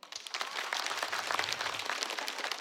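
An audience at a stand-up comedy show claps together, starting quickly and holding a steady, lively ripple of applause through the whole stretch, with no voices.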